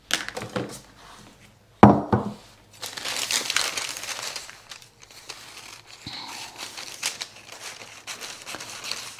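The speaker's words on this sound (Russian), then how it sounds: "Все, вырезаю рукавчик." Cutting out a sleeve piece of coat fabric, a sharp crisp snip followed by stretches of crinkling, rustling fabric and paper handling, close and moderately loud.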